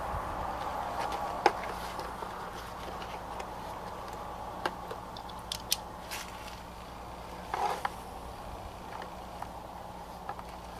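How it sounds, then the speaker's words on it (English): Two screws are backed out of the butt pad on a Ruger American rifle stock, giving faint, scattered mechanical ticks and small clicks over a quiet room hum. "we're going to remove the 2 screws in the butt pad here, pull this off"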